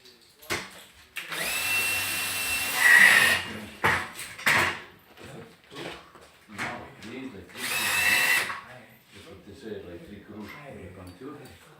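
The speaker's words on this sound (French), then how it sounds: "Il faut commencer à visser." Power drill driving screws during renovation of a commercial space being converted into a dwelling, in several whirring bursts of a few seconds each, close and loud, with people talking between them.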